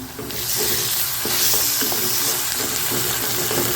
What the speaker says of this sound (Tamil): பச்சை மிளகா இஞ்சி பூண்டு பேஸ்ட் இதையும் நல்லா வதக்கிடலாம்